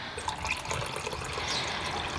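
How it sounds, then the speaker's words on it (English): Cold water poured while making a single cup of lemonade, a short, steady close splash filling a container throughout. "we are going to take cold water, and we're going to go 3/4 cup"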